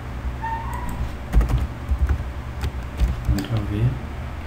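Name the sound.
computer keyboard typing, pressing Ctrl V shortcut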